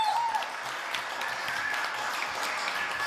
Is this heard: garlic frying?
no